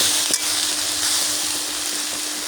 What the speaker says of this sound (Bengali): তো শাক আমি আবারও ভালো করে নেড়ে দিলাম।